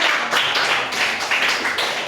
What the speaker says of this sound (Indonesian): Tepuk tangan kan, Pak, kita semua.